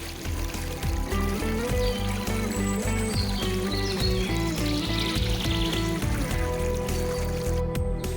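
Spring water pours from an outlet into a creek in a continuous, close trickling and splashing stream. Layered, busy low gurgles sit under it, and it stays steady and fairly loud throughout.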